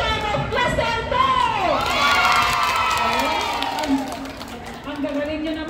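A crowd of schoolchildren cheering and shouting together at a Filipino anniversary celebration, a loud sustained wave of excited young voices with rising and falling calls, clapping lost in the din.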